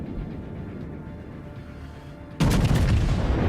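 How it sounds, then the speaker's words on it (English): Heavy naval gunfire from the USS Montana, a Tier 10 battleship in World of Warships, dueling a German Großer Kurfürst; a steady low rumble gives way to one sudden loud, broadband blast that holds through the end. "Right now, I'm essentially engaging in a artillery duel against enemy Tier 10 German battleship"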